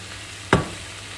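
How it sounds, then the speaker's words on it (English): Vegetarian sausage pieces in curry in a hot pan give one sharp, close sizzling scrape as a spoon stirs through, then settle to a faint background hiss. "So I'm giving the curry a good stir."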